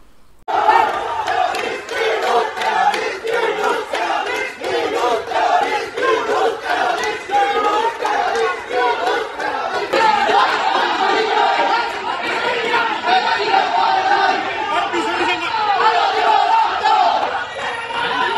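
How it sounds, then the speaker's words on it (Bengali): A protest crowd abroad chants slogans together in loud, rhythmic bursts, dense and sustained, with many voices shouting in unison and general crowd chatter underneath throughout. "বিদেশের মধ্যে এরকম বিক্ষোভ মিছিল করা বা আন্দোলন স্লোগান দেওয়া"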